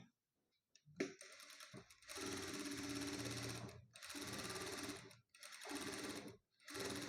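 A sewing machine runs in steady, even bursts of rapid stitching while sewing aari work along a blouse neckline, close and loud, with brief stops between runs.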